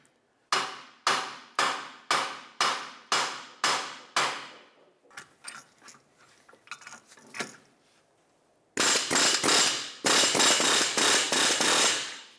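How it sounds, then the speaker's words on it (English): Hammer blows striking the rear wheel bearing hub assembly of a 2007–2017 Jeep Compass, a steady series of sharp metallic hits, then lighter irregular taps, then a rapid run of loud strikes near the microphone. "take a hammer and hit this"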